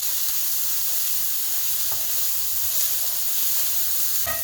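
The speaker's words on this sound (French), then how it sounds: "dans 3 cuillères à soupe d'huile d'olive, je mets à suer mes échalotes" Shallots sweating gently in three tablespoons of olive oil in a pan for risotto, a soft continuous sizzle and hiss, steady and close, with no talking.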